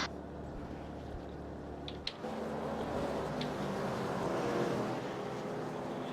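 Pace car engine heard onboard in a NASCAR Gen 6 racing video game at Daytona, a steady continuous drone with a brief blip near two seconds, holding level and loud throughout.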